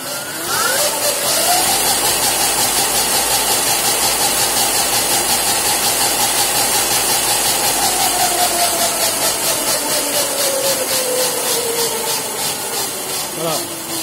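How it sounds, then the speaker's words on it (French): Electric motor of a retrofitted Yamaha TDR 125 R motorcycle, fed 60 volts, spins at full speed with a loud, steady high whine and a continuous hiss that holds level for the whole stretch. "que le moteur tourne à plein régime"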